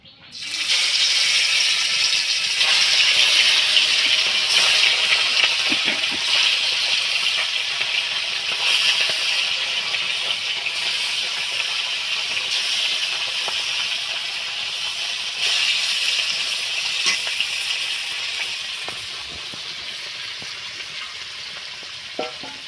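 Fish marinated with salt, turmeric and chili frying in hot oil, a steady close sizzle and hiss that holds throughout with small crackles and a few clinks.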